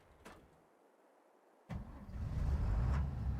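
In the Farming Simulator 22 game, a vehicle engine starts. A couple of faint clicks come first, then a sharp start at mid-clip builds into a steady, moderately loud idle rumble. No voices.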